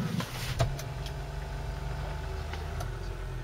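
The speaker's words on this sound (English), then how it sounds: "As we turn on the engine, we put our foot on the brake." A Kia Ceed 4Tech GDI with DCT gearbox starts with a brief burst, then settles into a low, steady idle hum heard from inside the car, constant and fairly quiet.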